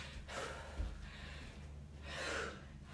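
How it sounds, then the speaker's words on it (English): Heavy, forceful exhales and gasping breaths from a person doing kickboxing reps during a workout class, two breathy bursts with a short gap between them, close and fairly quiet. "Make sure we're breathing. Exhale on every single rep."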